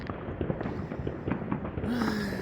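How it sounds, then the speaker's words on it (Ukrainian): A dense, rapid barrage of loud fireworks bangs and crackles pops continuously, with a rising whistle-like tone toward the end and no talking. "Це не фейерверки, це просто вибухи."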